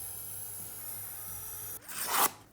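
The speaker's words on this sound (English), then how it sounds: "Let's get that burr off." A knife edge being deburred after sharpening gives one quick, close, rasping scrape near the end, after a quiet stretch.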